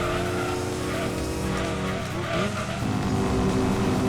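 Racing video game car drifting, a loud steady engine roar with squealing tires sliding through a turn, game music or effects layered throughout.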